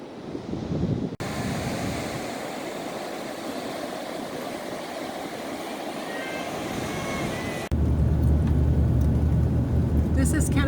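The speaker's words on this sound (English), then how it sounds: "We're at Tofino Beach, the one down Lynn Road. They're out here surfing." Ocean surf rolls steadily onto Tofino Beach on Vancouver Island, a continuous broad wash with wind buffeting the microphone, cut off partway through by a louder rumbling car engine.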